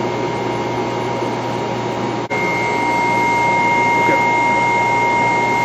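Vacuum pumps running as a deposition tool's load lock pumps down from roughing toward high vacuum, a steady loud mechanical hum and whine with a brief dip midway and a thin tone appearing afterward.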